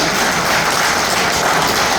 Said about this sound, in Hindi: आप में से बहुत सारे लोग जो तालियां बजा रहे हैं